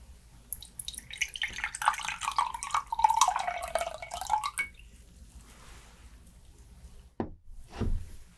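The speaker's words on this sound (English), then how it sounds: "And now for the beautiful pour into an equally beautiful glass." A gin and tonic grapefruit cocktail is poured into a glass, a gurgling stream whose pitch rises and falls as it fills, then stops, followed by a few soft knocks and drips.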